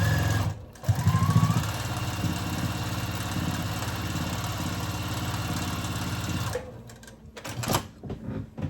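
A sewing machine stitches down scraps on a crazy quilt block made from tiny leftover crumbs, a continuous close motor whir for several seconds, then stopping and giving way to handling noises.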